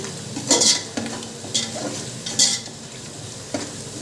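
A spoon stirring coconut biryani mixture with onions in a pot: a few separate scraping and clinking strokes spaced about a second apart, close and fairly loud, over a soft background of low hiss, with no talking.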